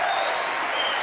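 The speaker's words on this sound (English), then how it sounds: "Eternal applause" Sustained applause from a crowd, dense and even, with steady clapping throughout.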